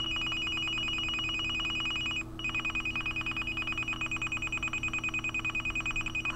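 Mobile phone flooded by rapid incoming text messages from a message bomber, repeated electronic notification chimes firing in quick succession, a steady tonal stream with one brief gap, close and alone.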